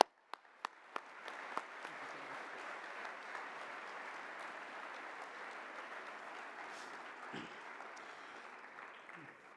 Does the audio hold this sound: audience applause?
yes